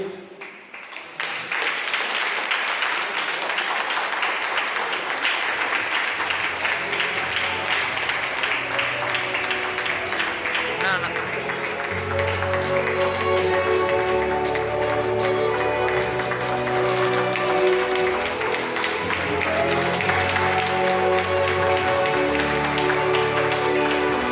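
Hall audience at a school's 25th annual day celebration claps steadily for prize-winning students, a dense, sustained wash of applause over a tonal, music-like background that holds for the whole stretch.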